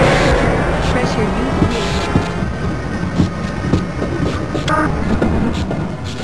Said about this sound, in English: Press your forward and backward keys to increase or decrease the speed of the train.